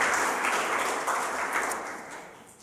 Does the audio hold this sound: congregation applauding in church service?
yes